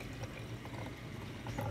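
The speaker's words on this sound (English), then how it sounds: "And you'll do about 1/2 cup of vinegar. I use apple cider vinegar." Apple cider vinegar pours into a mason jar as a soft, steady liquid splash and trickle, quiet and close, for under two seconds with no talk.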